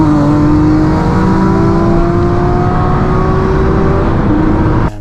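A 400hp Volkswagen Golf GTI with long gearing accelerates hard, its engine note climbing steadily and loudly in a single sustained pull toward redline with no shift, recorded close with no talking.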